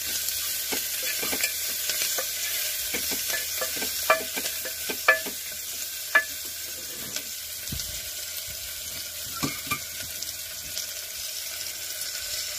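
Onions fry with a pinch of salt for a sprouted horse gram palya, a constant soft sizzle under repeated scraping and clinking of a spatula stirring the pan, close up and without speech.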